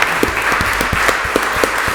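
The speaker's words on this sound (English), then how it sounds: "So how about a round of applause for our 4A" People at a city council meeting applaud a high school's 4A state champion boys basketball team with loud, close clapping, punctuated by regular heavy thumps.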